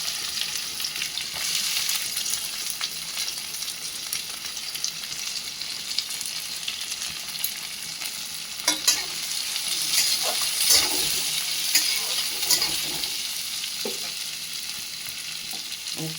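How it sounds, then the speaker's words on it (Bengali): Chopped onions frying in hot oil for a fasha fish dish, a steady hissing sizzle with occasional pops and scrapes, close and fairly loud, no talking. "তেলের মধ্যে পেঁয়াজ কুচিগুলো দিয়ে দেব।"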